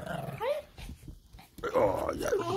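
A jealous dog growls and whimpers up close in short bursts, with a brief quiet gap in the middle, while people talk over and around the sounds.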